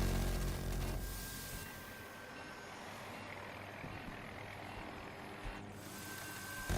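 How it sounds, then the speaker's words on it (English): An in-game helicopter in Battlefield drones with a continuous whirring rotor and engine roar at a steady, moderate level throughout, swelling slightly in places, with no voices. "Marking enemy helo!"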